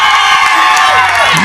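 A wedding-party audience cheering and whooping with some clapping, a loud, dense burst of crowd noise that fills the whole moment, with voices shouting over it.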